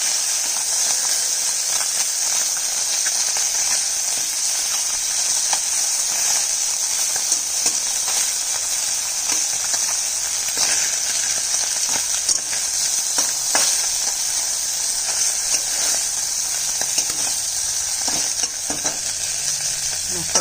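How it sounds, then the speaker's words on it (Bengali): Puti fish frying in hot oil in a pan: loud, dense, continuous sizzle and crackle lasting throughout, with occasional light clicks of a utensil and no talk. "মাছটা ভাজা হয়ে গেছে, তুলে নিব।"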